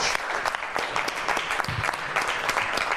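Audience applause following a talk by a book author at an event, steady dense clapping from a crowd filling the whole stretch with no one speaking.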